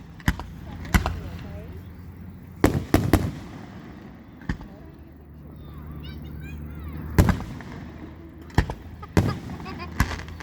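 Fireworks at an outdoor display burst in scattered sharp booms and cracks, some in quick clusters, set against a steady crowd murmur and faint crackling between the blasts.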